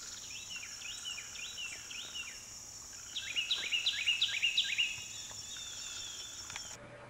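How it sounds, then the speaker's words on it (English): A bird singing outdoors in repeated high, sweeping chirps that grow brighter and busier midway, over a steady hiss of background insects and ambient noise. "It's a Tweety bird."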